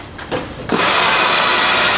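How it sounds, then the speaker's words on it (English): A power drill bites through wool insulation, starting with a few short rough grinds before settling into a loud, steady high-pitched whine that runs without a break to the end. "what happens when you drill this insulation"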